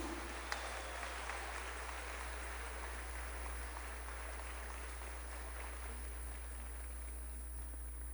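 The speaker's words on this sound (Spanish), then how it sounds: "Un aplauso fuerte a Jesús." A large church crowd at a Catholic Charismatic Renewal gathering in Ecuador claps steadily for Jesus, the broad, even applause sounding faint and distant throughout, with a low hum beneath it.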